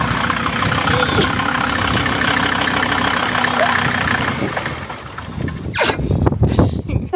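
A 1989 Mercedes-Benz 190E fitted with an OM605 diesel engine runs steadily with a rough, rumbling idle, then the tone shifts and becomes choppier near the end.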